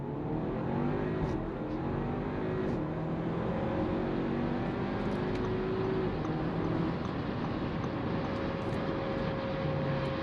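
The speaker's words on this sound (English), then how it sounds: "launching any SUV with some form of brake boosting mode is always more impressive than a sedan" A 2024 Audi Q5 45 TFSI SUV launches hard from a brake-boosted standstill, its engine note rising in loud, steady acceleration over about ten seconds under constant road and wind roar.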